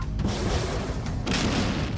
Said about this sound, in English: More explosion. Do not stop exploding. More missiles.